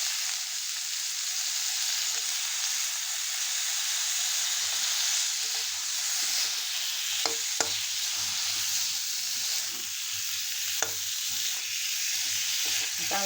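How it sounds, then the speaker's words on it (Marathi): Chopped ridge gourd stir-fried in a pan for dodka bhaji, giving a steady close sizzle with occasional sharp clicks of a spatula stirring, alone without talk. "चांगलं परतून घेणार आहोत. जो दोडका आपण चिरून घेतलाय तो टाकायचा आहे."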